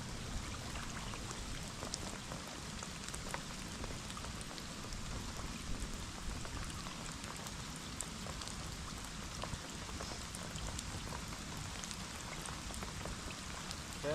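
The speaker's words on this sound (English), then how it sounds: "If it's raining, it's raining." Steady rain falls outdoors near a willow tree, a dense, even patter of drops that holds at a moderate level throughout with no voices.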